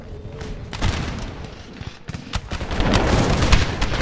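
Repeated musket volleys in Empire Total War during a siege battle, crackling bursts of gunfire rolling across the field with booming reports that build toward a dense, loud fusillade.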